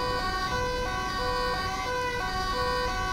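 An ambulance siren in GTA 5 wails steadily, its tones switching back and forth in a regular pattern, loud and continuous with traffic noise underneath.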